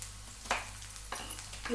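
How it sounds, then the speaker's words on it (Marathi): Onion fries in a pan with a continuous soft sizzle, broken by a few brief scraping strokes of a spatula. "कांदा टाकला कांदा चांगला तांबूस होऊ द्यायचा"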